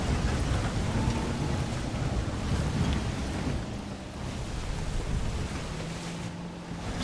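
Heavy rainstorm in a Jurassic Park game, steady dense rain with low rumbling thunder rolling underneath, a continuous wash of sound without speech.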